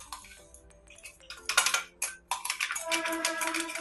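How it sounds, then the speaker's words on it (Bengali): Ground spice paste stirred into hot paneer in a pan, giving scattered metallic clinks and scraping taps of a utensil against cookware, busier and louder in the second half, with no talk. "এখন এই গরম পনিরের মধ্যে আমি দিয়ে দিচ্ছি, দিয়ে ভালো করে পনিরের মধ্যে মিশিয়ে নেব"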